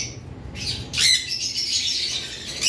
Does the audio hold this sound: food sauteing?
no